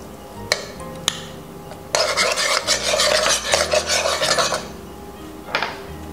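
Minced garlic stirred into olive oil in a pan for Italian greens, a few sharp clinks of utensil on pan followed by a dense, scraping, sizzling stir for a couple of seconds, then quieter, with no talk.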